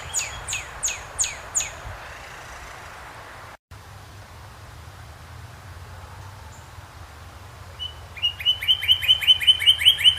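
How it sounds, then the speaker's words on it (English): Wild birds trade sharp, loud calls back and forth: a burst of repeated chirps at the start, a quieter stretch with a brief dropout, then a fast rising series of loud calls near the end. "you get birds calling back and forth to each other"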